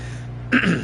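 A single short cough or throat clear, abrupt and fairly loud, over a steady low background hum of an NFL game broadcast from Lucas Oil Stadium.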